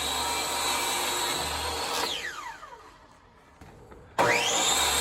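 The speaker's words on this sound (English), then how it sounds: "I started cutting up my walnut" Power saw cutting walnut for table legs, a loud steady whine that spools down partway through, falls quiet, then abruptly restarts at full speed, close up.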